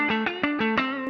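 Clean electric guitar with no pedal engaged: five evenly spaced picked notes or chords, each struck brightly and ringing with sustained harmonics, played alone, close and fairly quiet.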